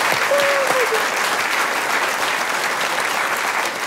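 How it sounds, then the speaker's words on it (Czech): A theatre audience at a Prague stage show applauds steadily throughout, a thick, even wash of clapping with a brief faint vocal sound near the start. "Teď zatleskejte."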